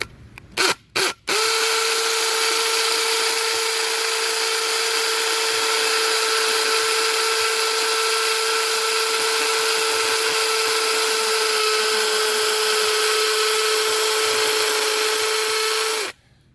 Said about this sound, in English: let's go ahead and drill our hole for this